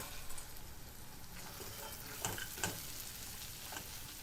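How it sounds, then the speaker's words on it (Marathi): Sandge and tomatoes frying together in a kadhai give a faint, even sizzle throughout, with a few soft clicks of stirring. "टोमॅटो मऊ झाला आहे ह्यात सांडगे घालूया"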